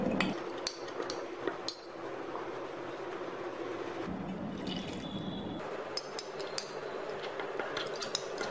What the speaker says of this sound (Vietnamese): Cô bác khuấy cho tan ra nè.